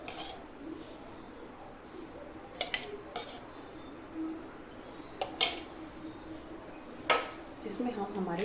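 A pan set down on a gas stove for roasting almonds and cashews in a little ghee, with a few light metallic clinks and knocks, fairly close, over a quiet background hiss.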